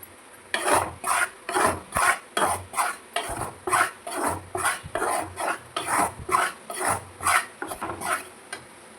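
Flour roasting in a pan is stirred with a spoon for kozhukattai, about twenty rhythmic scraping strokes in quick, regular succession, close and clear with no talk.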